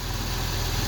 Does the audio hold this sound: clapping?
no